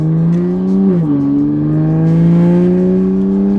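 A car running an ethanol blend tune drones steadily from inside the cabin, its engine note dipping briefly then rising slowly as it accelerates, loud and sustained with no talking.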